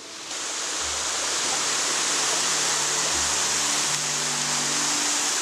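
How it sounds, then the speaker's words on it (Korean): David Waterfall at Ein Gedi, the largest falls in the valley by the Dead Sea, roars as a loud, steady, broadband rush of falling water that stays constant and close, with faint low rumbles underneath. "다이 폭포의 소리를 들려드리고 싶습니다."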